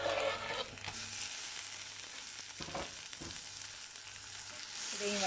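Tomatoes are sautéed with onion and garlic in a pan, a continuous bright sizzle with a few scraping stirs in the middle, close and steady, louder at the start and end.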